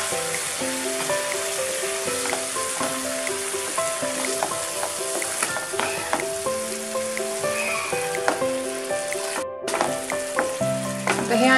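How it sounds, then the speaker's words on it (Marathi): Chopped tomato and onion fry for pav bhaji in a hot pan, a dense steady sizzle close up with scattered crackling pops and occasional stirring scrapes, no talk. "आता हे आणखीन थोडं भाजून घ्यायचं, दोन्ही मिक्स करून टोमॅटो आणि कांदा."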